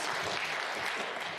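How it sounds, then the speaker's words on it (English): Warm, steady applause from the snooker crowd at the 2023 Scottish Open quarter-final between John Higgins and Tom Ford, a continuous close-sounding patter with no break and no talking. "they're giving him great applause"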